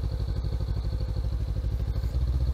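A motorcycle engine runs close by with a steady, throbbing low pulse and light mechanical clatter, its tone shifting briefly near the end as the clutch and gear lever are worked for a downshift.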